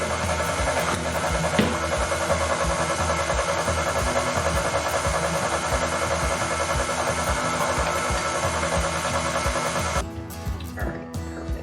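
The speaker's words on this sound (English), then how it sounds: "that just went a lot faster with the mixer" Electric hand mixer beating a cold mixture as heavy cream is added, running as a steady loud whir with a fast rhythmic pulse for about ten seconds before cutting off.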